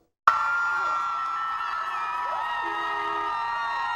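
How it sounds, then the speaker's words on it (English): A crowd of 400-plus Troy students cheers and whoops to welcome the Troy football team back, a sudden loud roar that holds steady, with shouts and whistles rising over it. "400 plus Troy students gathering to welcome the Troy football team back to Trojan territory."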